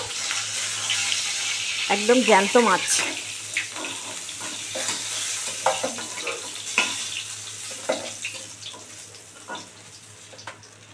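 Foli fish frying in a pan, a steady sizzle running underneath with spatula scrapes and clinks as the pieces are flipped, while someone talks over it.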